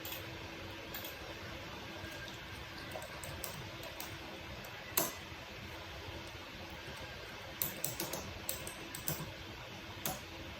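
Quiet, sparse keystrokes on a computer keyboard while Cisco switch commands are entered, scattered clicks with a few quick bursts near the end over a steady fan-like hiss.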